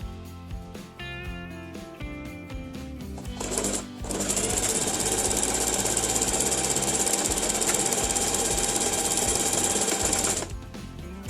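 A Singer Heavy Duty sewing machine stitches a buttonhole, starting with a few slow clicks before settling into a fast, steady mechanical whir and needle chatter for several seconds, then abruptly stopping.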